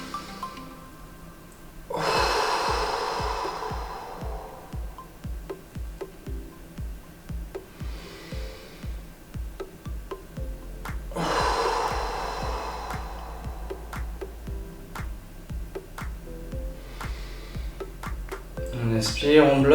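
Controlled deep breathing during a pulmonary fibrosis exercise session: two strong, drawn-out breaths, each several seconds long, with fainter breaths between them, heard over a steady rhythmic thumping beat of background music.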